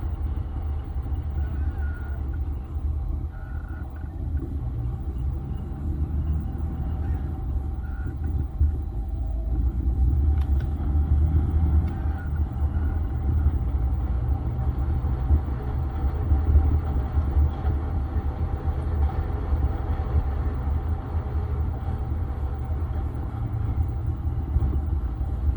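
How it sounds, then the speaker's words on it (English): An old 1991 Jeep YJ rolls over rough speed bumps in a hotel parking area, giving a steady low engine and road rumble with a few heavier thumps and jolts, close and continuous throughout with no talking. "I'm driving my old 91 Jeep YJ"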